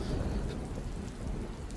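Heavy rain pours steadily from a storm cloud with a low rumble of thunder underneath, a dense, close, unbroken wash of noise with no speech.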